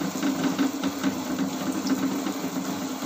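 A wet grinder churns soaked dough mixed with its soaking water for appalam batter, a steady motor whir with quick rhythmic knocking pulses. The sound is close and continuous, with no talking.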